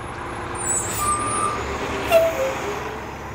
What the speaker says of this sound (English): I will get away from all these buses in a minute here.